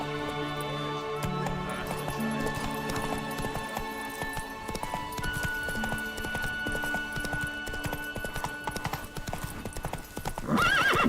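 A horse gallops with steady clip-clop hoofbeats and neighs in The Witcher 3, the hooves loud and continuous under a game soundtrack, with a whinny near the end.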